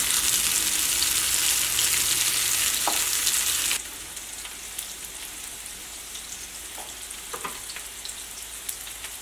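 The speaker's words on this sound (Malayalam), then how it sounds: "ഇനി അതിലേക്ക് വെളുത്തുള്ളി ചേർക്കാം. വെളുത്തുള്ളി ഇതിൻ്റെ കൂടെ കിടന്നിട്ട് മൊരിയട്ടെ." Garlic frying in oil in a pan for a red chili chutney, a steady dense sizzle that drops abruptly to a quieter crackle partway through, with a few faint clicks.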